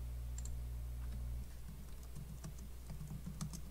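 Soft, quick keystrokes on a computer keyboard typing a shoe name, in a short rattling burst that follows a low steady hum.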